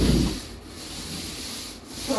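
Primer-type paint being brushed onto the wooden siding of a she shed, a soft, steady scraping rub of bristles across wood, close and continuous with no talking.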